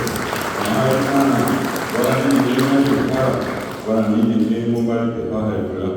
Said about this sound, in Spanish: así que les pido un aplauso para